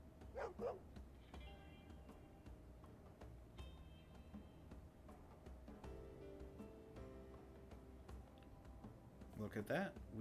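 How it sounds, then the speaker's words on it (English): A dog in the video game Lost Odyssey barks faintly a few times, with soft yips at the start and end over quiet game ambience, and a voice talking across the clip. "Look at that. We found the dog."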